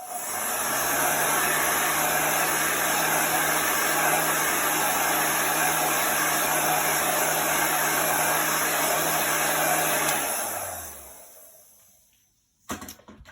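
A handheld craft dryer blows steadily and loudly for about ten seconds, drying chalk paste on a gingerbread tree cutout, then winds down and stops, followed by a brief clunk.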